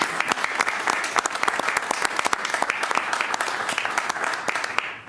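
Applause at a village board meeting, dense, continuous clapping from a room of people, close and steady for several seconds before it tapers off at the end.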